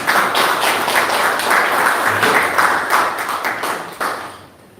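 After a church forum lecture, an audience breaks into steady applause, dense overlapping clapping that holds for several seconds and then fades out toward the end.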